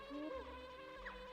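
Buzzing of the bee transformation in the Banjo-Kazooie video game, a continuous insect-like drone with a bright whine rising and falling over its short length, faint and unaccompanied.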